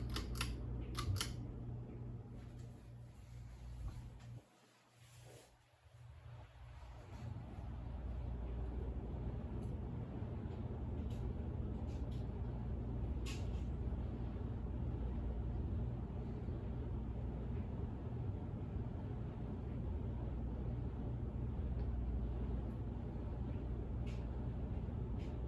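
52-inch Crest 4000 Series ceiling fan with wood housing spinning down after being switched off, a faint steady low whir and hum continuing after a click and brief handling noise near the start.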